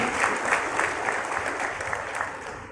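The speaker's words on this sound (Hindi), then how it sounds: "मैं जोरदार तालियां चाहूंगा" Loud, dense clapping from a celebration audience in Chandrapur, many hands together in a steady continuous roar with faint rhythmic peaks, filling the whole short stretch without any speech.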